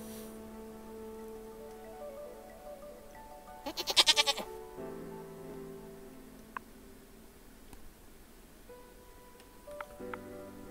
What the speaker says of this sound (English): We have a duck. We need goats.